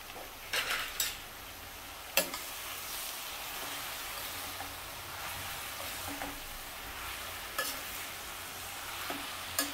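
Hadga flowers, lightly chopped, stirred into a pan of spiced oil and onion: a steady soft sizzle of frying runs throughout, broken by a few sharp clinks and scrapes of a utensil against the pan.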